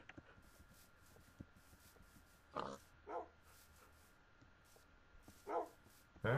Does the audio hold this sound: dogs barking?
yes